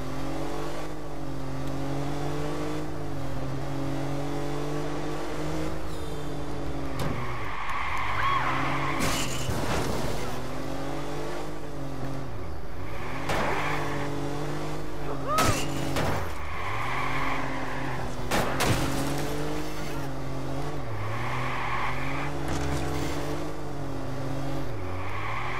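A car's engine in Watch Dogs revs up and drops repeatedly through gear shifts, rising and falling in a continuous loud drone broken by a few sharp knocks.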